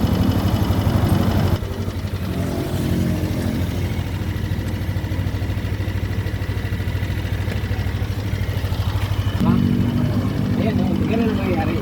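A Yamaha Aerox 155 scooter engine, neglected and never given an oil change, idles with a steady low rumble throughout, and someone talks over it.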